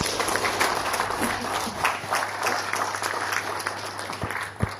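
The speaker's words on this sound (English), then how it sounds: "Can we give a praise of clap for Jesus tonight?" A church congregation claps in praise during a service, a fairly dense, steady round of clapping lasting about five seconds with a few sharper claps near the end.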